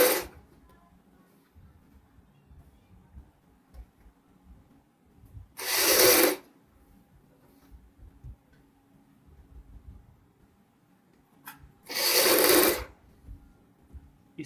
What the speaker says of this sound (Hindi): और इस प्रकार हम कॉलर की सिलाई लगाते हैं।